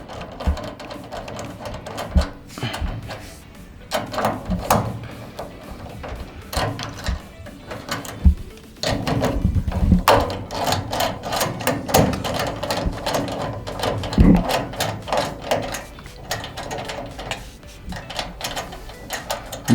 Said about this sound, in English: So I'm going to pop these screws off.